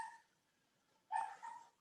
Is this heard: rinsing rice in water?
no